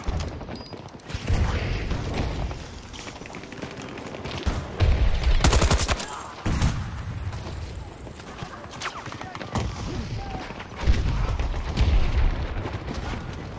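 Enemy gunfire in a Battlefield video game: bursts of rapid automatic fire and heavy booms amid a dense, rumbling battle mix, with a few sharp louder hits standing out.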